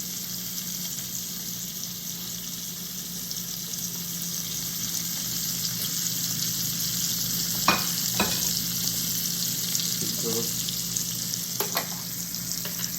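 Steak frying in a pan gives a steady, even sizzle throughout, with a few faint clinks of handling partway through and no talk.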